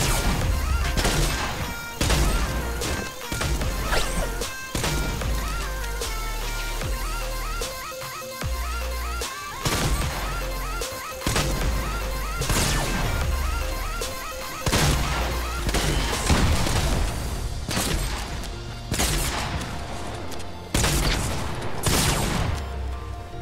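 Gunfire in the Fortnite Battle Royale video game, with repeated loud shots, crashes and bursts of rapid fire coming in clusters throughout, alongside game music and effects.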